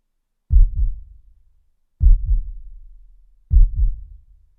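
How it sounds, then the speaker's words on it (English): A synthetic heartbeat sound effect built in Pro Tools: three deep, close double thumps in a slow lub-dub rhythm, each pair fading out before the next. "this simple heartbeat sound effect"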